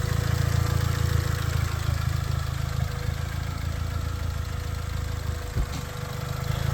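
A running Honda Civic engine idles steadily and evenly nearby, a constant low hum with no speech over it.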